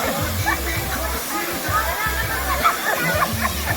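Nangoloan falls in San Felipe, Zambales, pours with a steady rushing roar and sloshing water close by, while people shout and talk over it.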